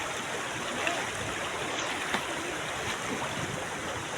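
Fast-flowing river water rushes in a steady, dense broadband wash, close and continuous, with no talking and only faint splashes rising now and then.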